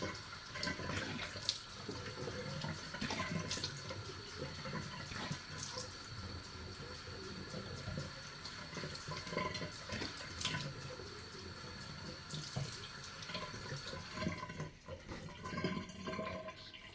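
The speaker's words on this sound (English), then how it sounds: "So I'm going to just take room temperature water to rinse the face." Room-temperature tap water runs steadily into a sink for a face rinse after an exfoliating mask, with a continuous hiss and splash and faint irregular splashes from hands, heard alone and moderately quiet.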